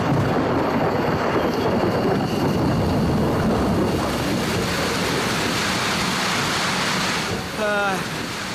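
Steady heavy rain pours down in a Costa Rican rainforest as a dense, continuous hiss, with low thunder rumbling underneath; a voice briefly cuts in near the end.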